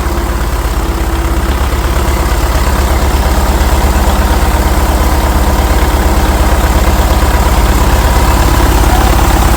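An International TD-6 crawler's diesel engine runs close by in a loud, steady, rumbling idle, with a rapid low chug underneath.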